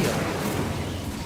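An Incendio fire spell is cast in Hogwarts Legacy, a loud, roaring whoosh of flame with a booming, noisy body that holds steady for about a second.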